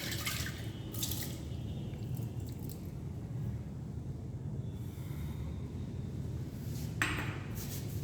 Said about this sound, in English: wash the conical flask with the help of water